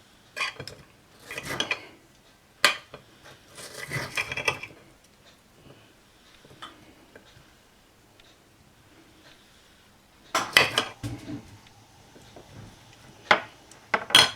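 A knife halves onions on a board, with separate knocks and scraping cuts in short clusters. Quiet gaps fall between them, and there is a busier run of chops near the end.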